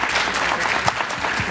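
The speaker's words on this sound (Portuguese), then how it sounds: "Salva de palmas," Short burst of dense audience applause at a business trends conference, many hands clapping steadily and close by for a second or two, with no talk over it.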